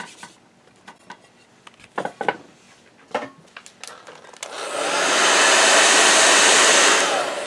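A handheld craft heat dryer drying paint on a paper bookmark starts with a loud, steady blowing whir after several light clicks and taps from handling on a table.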